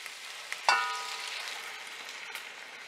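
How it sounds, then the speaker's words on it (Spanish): Chicken is stirred in a pan with chicken broth and tomato sauce, giving a soft, steady sizzle with a sharp scrape of the spoon near the start and another light knock near the end. "Mezclamos muy bien, que toda esta mezcla del caldo de pollo con la salsa de tomate se integre."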